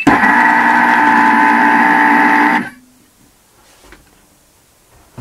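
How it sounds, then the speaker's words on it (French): A kitchen robot kneads eggless brioche dough on its closed-bowl setting, giving a loud, steady motor drone that runs without a break for about two and a half seconds and then stops abruptly, leaving near silence. "Et voilà, donc la pâte est en train de pétrir"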